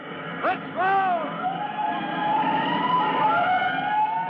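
A fire engine siren wails in rising and falling sweeps, first in short bursts and then in a long sustained tone, heard from a distance along city streets amid engine noise and voices.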